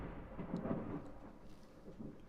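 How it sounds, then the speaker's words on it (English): Thunder rumbling during an outdoor ceremony, a low continuous roll with swelling peaks around the middle, moderately loud with a faint rain-like hiss, no voices. "Did you hear that thunder?"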